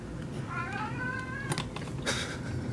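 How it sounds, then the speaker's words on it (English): A cat makes odd, drawn-out warbling meows while watching a pet gecko, close and fairly loud, with a couple of sharp clicks and rustles afterward over steady room noise. "making weird meowing sounds."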